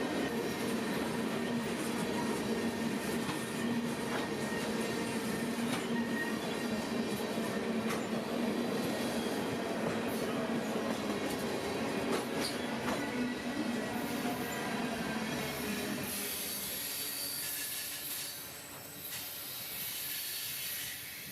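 A long freight train made up of tanker car after tanker car rolls past close by, a steady loud rumble of wheels and rail clatter that eases toward the end as the last cars go by.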